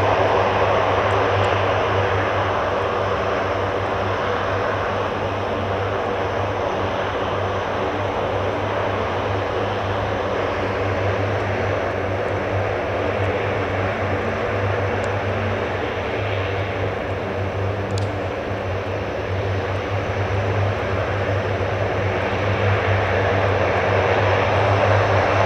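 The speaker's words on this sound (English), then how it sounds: "Hercules has moved onto the end of one now." A Hercules propeller aircraft taxis onto the runway end at an air base, its steady, loud engine drone and propeller hum filling the scene continuously without interruption, with no voices.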